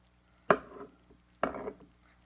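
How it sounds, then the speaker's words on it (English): Knife cutting the core out of a tomato half on a cutting board: two short, close cuts about a second apart, each a quick scrape with a brief rustling tail, no talk. "I like to trim out this core"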